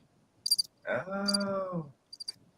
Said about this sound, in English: You heard the crickets.